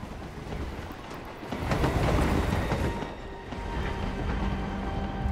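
Train rolling along tracks in the video game Hitman 3, a steady loud rumble with broadband rattle and clatter that swells in the middle and continues throughout.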